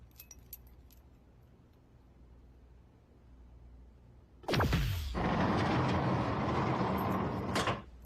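Keys jingle briefly before a lock clunks and a door slides open with a sustained rushing sound lasting a few seconds, then cuts off, indoors in a drama scene.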